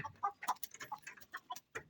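Chickens clucking in a farm coop where chicks are kept, a series of short close clucks and calls in an irregular rhythm, alone without talk.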